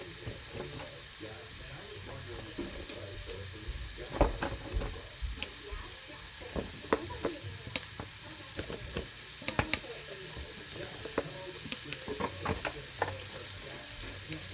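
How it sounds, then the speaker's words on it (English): Butter sizzles and crackles steadily in a hot pan while being basted over baked crab legs, with scattered sharp pops rising above a constant frying hiss, close and moderately loud. "I'm gonna put a little bit of butter on here while I'm waiting for the rest of the ingredients, but not all of it. So I'm just basting it."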